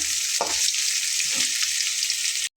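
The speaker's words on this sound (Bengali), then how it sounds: "খুব ভালো করে কিন্তু পেঁয়াজটা এর সঙ্গে ভেজে নেব।" Onion and potatoes fry in a pan for a katla fish curry, giving a steady hiss and sizzle with a few soft stirring knocks, close and continuous, with no talk.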